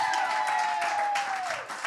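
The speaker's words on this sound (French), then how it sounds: "On applaudit Christine" A studio audience on a Quebec talk show claps briefly for a guest, a short dense burst of applause with a steady tone running underneath.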